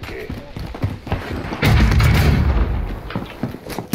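A frag grenade is thrown in Warzone, then bursts in a heavy, booming explosion that swells and rumbles for about a second, surrounded by scattered footsteps, clatter and shouting from nearby players.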